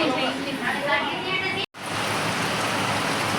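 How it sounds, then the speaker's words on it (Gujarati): Steady rain hisses continuously with a brief cut near the middle, and a faint voice murmurs underneath early on. "આવે છે બહુ મસ્ત મજાનો વરસાદ"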